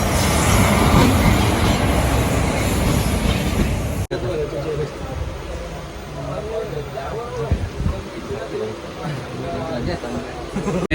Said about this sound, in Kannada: ರೈಲ್ ಬಂತು, ರೈಲ್.